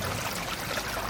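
Water spills over the rocks of a small garden pond's spillway waterfall, making a steady close splashing rush with no break or voice.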